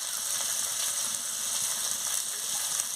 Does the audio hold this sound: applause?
no